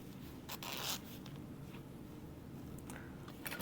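A zipper pull slid along a fabric bag during sewing gives a brief raspy zip, followed by faint scrapes and light handling noises in a quiet room.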